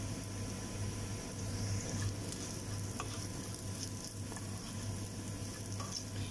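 Asafoetida hits hot tempering oil in a pan with the stove turned off, setting off a steady, fine sizzle that holds for several seconds, close and even, with no voices.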